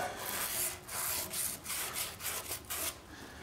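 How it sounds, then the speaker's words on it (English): Open mesh sand cloth scrubs old sealant from a freeze plug bore on an engine block, producing close, rhythmic rasping strokes, about four or five back-and-forth passes with brief pauses between. "I'm gonna take a piece of open mesh sand cloth, regular sand cloth will work, and just get rid of that old stuff"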